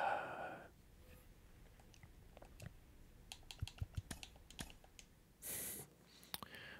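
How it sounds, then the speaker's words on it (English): Keys or buttons on a keyboard or controller click in quick, irregular bursts while a baseball video game, MLB 24 Road to the Show, is played, the taps close and crisp against a quiet background with a brief rush of noise near the end. "I'm clicking random buttons"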